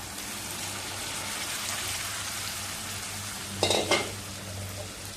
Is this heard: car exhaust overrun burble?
no